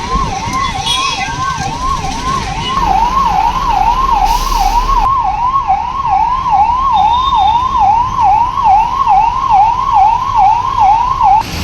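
An ambulance siren wailing while stuck in a traffic jam, loud and close, its rising-and-falling tone repeating steadily throughout over road noise.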